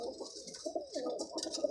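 A large pigeon coos in soft, throaty bursts, close and fairly quiet, with no speech over it.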